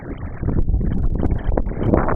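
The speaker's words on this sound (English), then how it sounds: "but a lot of wind." A strong gust roars across the fiberglass roof of a 1992 Rexhall Airex RV, a loud, close, low rumbling buffet that lasts a couple of seconds.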